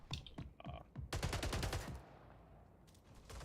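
Video game gunfire: a short burst of rapid, close shots, with a few scattered single shots before it and a quiet tail after, no voices.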